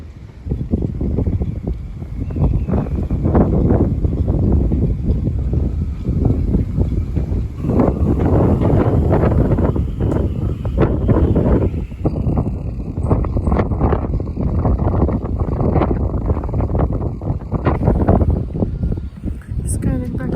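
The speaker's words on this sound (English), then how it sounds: "but it is pretty windy tonight." Strong gusty wind buffeting a sailboat at night on the Portuguese Algarve coast at the edge of a hurricane, loud continuous roar and microphone rumble with rattling rigging and a steady whistling tone, a voice talking under it.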